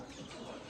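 Chickens kept in a village shed in Pindi Gheb cluck continuously in a dense, steady flock murmur, close and fairly loud, with no talking.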